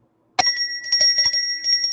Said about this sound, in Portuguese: Não tem o escudo do Botafogo, mas tem um sininho. Aperta ele, bate, ó.